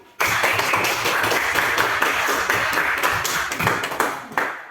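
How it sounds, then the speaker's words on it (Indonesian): A classroom of students claps hands together in a lively, steady burst of many overlapping claps, loud and close, with no talk over it. "tepuk tangan kali kita dulu sekali lagi."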